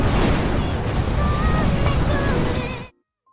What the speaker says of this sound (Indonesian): sebuah ledakan terjadi, menghancurkan server utama di sana